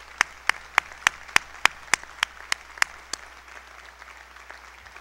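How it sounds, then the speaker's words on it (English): Sparse, sharp hand claps ring out in a large commencement ceremony hall for the entrepreneurs being honoured, about a dozen distinct loud claps at an even pace, each echoing, then thinning to quiet room tone after three seconds. "Let's give an applause to these entrepreneurs"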